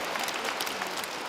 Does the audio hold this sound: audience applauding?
yes